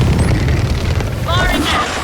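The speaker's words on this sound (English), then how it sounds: "Rockets are away!" Rockets fire and explode in Gears of War 4, a dense, loud, continuous low rumble of blasts with game voices calling out over the din.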